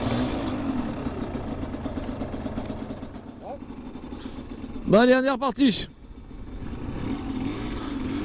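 Yamaha TDR 125 two-stroke motorcycle idling steadily up close, then a sharp rising rev burst around the middle before settling back to idle, with someone speaking briefly over it.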